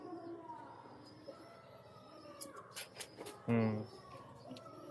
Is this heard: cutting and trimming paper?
no